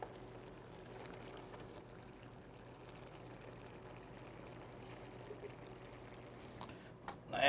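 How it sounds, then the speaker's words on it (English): Water is poured onto ice in a kitchen, a steady low splashing and trickling that runs continuously at a fairly quiet level, with a few louder knocks near the end. "I add a little water to my ice here so it starts to melt."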